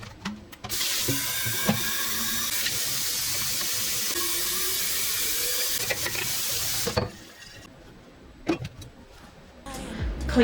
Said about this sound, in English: Fill my water bottles.